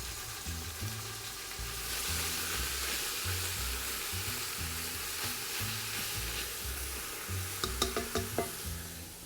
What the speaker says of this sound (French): On va faire revenir notre viande. On va y ajouter en même temps nos carottes